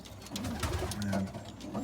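Pigeons coo in a loft where a mealy pied bird is kept, giving several soft, low, rolling calls that overlap near the listener over a light background hum.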